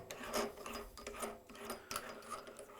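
A drill bores a hole for a model engine connecting rod on a 2-inch scale Fowler showman's engine, giving a close, quiet, uneven rasping and grinding with irregular bursts.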